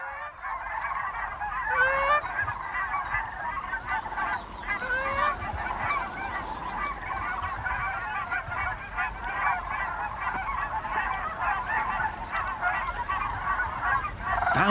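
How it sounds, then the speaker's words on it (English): Thousands of geese honking in a large flock, a dense continuous chorus of overlapping nasal honks that stays steady and moderately loud throughout with no voices. "Thousands of geese, telling everyone winter is on its way."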